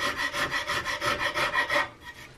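A rasp shapes the wooden stock of an Investarms Gemmer Hawken rifle kit in about a dozen quick, close rasping strokes, evenly paced, before stopping.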